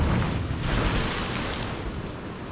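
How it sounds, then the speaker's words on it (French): Large waves crash and surge against rocks and reefs off Santo Antão, a dense, steady roar of surf with wind buffeting the microphone, loud and continuous throughout. "il y a des grosses vagues qui viennent se fracasser"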